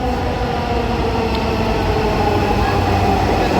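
A Dhaka metro rail train pulling into a station, a loud continuous low rumble and roar with steady rolling noise throughout, close by.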